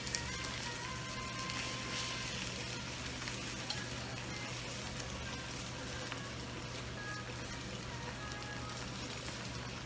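Sausages fry in a pan over medium heat, giving a steady, even sizzle and crackle that carries through the whole stretch with no pauses and only faint, sparse pops.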